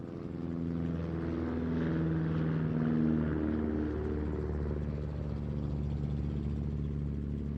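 A Bücker aerobatic biplane with a Hirth engine makes its final pass at an airshow, its propeller engine droning loud and steady with a harmonic buzz that swells as it nears and then holds, heard alone.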